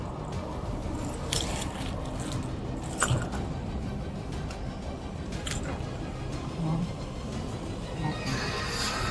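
Keys jingle and clink in short, sharp bursts during a police pat-down search, set against a noisy outdoor background with voices nearby.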